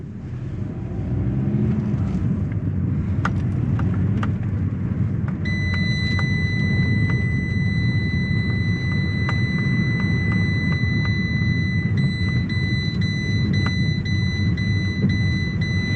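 Steady broadband road and engine rumble from a car driving at night, picked up by a camera held out the window, loud and continuous with wind noise and a few faint high electronic tones.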